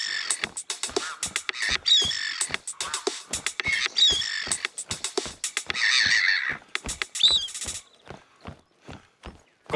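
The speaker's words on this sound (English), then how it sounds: "We recorded the call of some birds and made this." A short song built from recorded bird calls in theHunter: Call of the Wild, with cawing calls set over a fast, regular clopping beat that keeps a steady, loud rhythm throughout.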